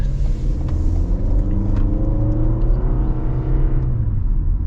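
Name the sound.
2025 Toyota RAV4 LE accelerating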